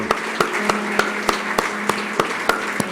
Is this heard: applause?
yes